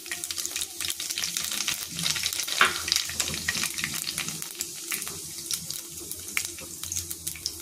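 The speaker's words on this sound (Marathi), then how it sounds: "तेल गरम झालेलं आहे। इथं आता जिरे मोहरी घालून घेऊया आपण।" Cumin and mustard seeds sizzle and crackle in hot oil for a tempering, a steady close hiss with scattered spitting pops throughout, fairly quiet and with no talk over it.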